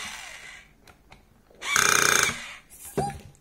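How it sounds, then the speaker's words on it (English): A power drill drives a screw into a toy robot built from screws and blocks: a brief loud whirring burst in the middle, flanked by quieter handling clicks and a short squeak near the end. "Get the drill."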